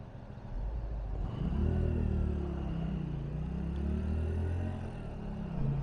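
Hyosung Aquila GV125 V-twin motorcycle pulling up a steep hill in fourth gear, its engine note swelling and rising in pitch, then holding a steady, throaty drone close by, with no talking.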